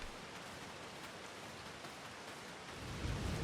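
A rainstorm in Farming Simulator 25 hisses as a steady, soft wash of falling rain, with a low rumble swelling in toward the end.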